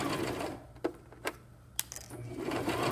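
A sewing machine stitching a fabric face mask hums at a low level, broken by a few sharp clicks and short mechanical taps near the middle before the running sound swells again.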